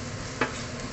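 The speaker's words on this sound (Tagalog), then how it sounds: "Halo na natin capsicum guys." Chopped capsicum stirred in a hot pan, with a steady sizzle throughout and one brief scrape of the spatula partway through.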